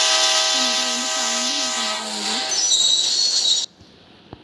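A train in a 3D driving video game rumbles along while its whistle sounds loud and near in long held blasts, then cuts off abruptly into near silence.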